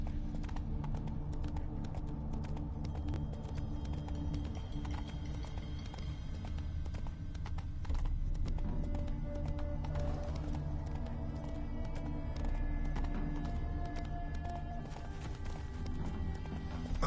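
Horse hooves trotting in a video game: a steady, continuous clip-clop rhythm at moderate loudness over a bed of low ambient game sound and music.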